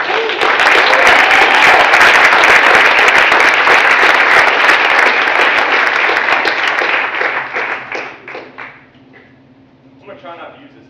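Loud, sustained applause from a large lecture audience welcoming a musician fills the room, then tapers off into scattered claps and quiet.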